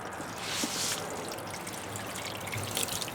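Water runs and trickles while salt is rinsed off a dorado fish, a steady close splashing stream with brighter surges of pouring.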